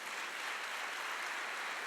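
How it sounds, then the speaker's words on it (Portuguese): A church congregation claps in praise during a Portuguese-language Easter sermon, a soft, even wash of applause heard faintly and steadily throughout. "vamos aplaudir ao Senhor."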